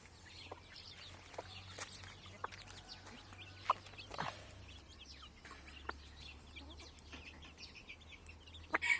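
Mixed village chicks and Sussex hens cluck and peep faintly in a coop, with scattered soft calls and small rustles spread through a quiet stretch.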